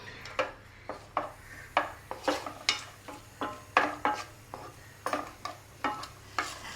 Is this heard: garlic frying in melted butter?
yes